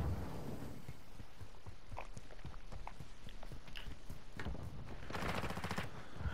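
Rapid hip-fire gunshots from a shooter video game, a run of sharp cracks in quick bursts with a denser volley near the end, loud and up close over steady background noise.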